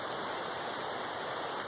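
A big river rushes beside a trail campsite, a faint, steady broadband hiss like distant whitewater, unbroken and with no voices.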